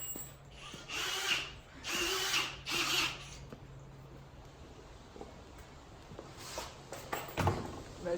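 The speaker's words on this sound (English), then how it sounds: "Give me the drill." A power drill runs in several short bursts during a homemade pontoon boat build, whirring over a steady background hum at moderate distance, with no speech.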